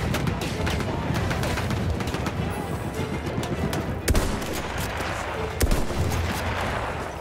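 Battlefield 1 gunfire on PC, dense rapid shots and bursts with a couple of louder booming impacts, continuous battle noise close and loud throughout.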